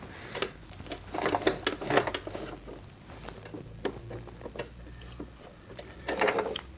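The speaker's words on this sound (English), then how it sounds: "I'm going to sew on the same piece of fabric with the new 1/4 inch marking highlighted." A sewing machine stitches a straight seam through fabric using a quarter-inch guide marking, giving quiet rapid mechanical ticking and whirring in uneven bursts, close and faint.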